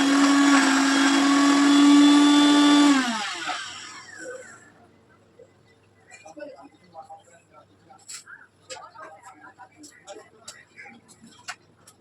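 A mixer grinder grinds masala in a home kitchen, a loud steady whirring drone that abruptly winds down after about three seconds, followed by faint clinks and small handling noises.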